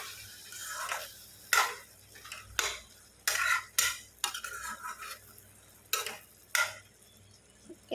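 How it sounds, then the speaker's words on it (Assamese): Potatoes frying in a home kitchen pan are stirred with a metal utensil, giving a series of sharp, irregular scraping clinks over a faint, low sizzle. "মই অলপকৈ পানী দি ভাজি ল'ম, আলুখিনি নিসিজালৈকে।"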